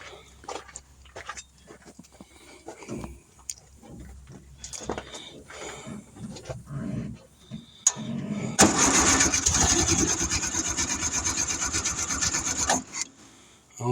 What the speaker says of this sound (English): Would you go in and just crank the motor over for a second?